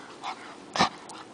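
Shih Tzu puppy giving a couple of short, faint, breathy whimpers and snuffles close by in a quiet room, with no voices.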